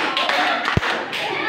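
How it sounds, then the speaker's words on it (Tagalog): A classroom group gives a quick three-beat clap, three short bursts of many hands close together, with a dull thump between them and a voice speaking over it. "Bigyan ng 3 palakpak."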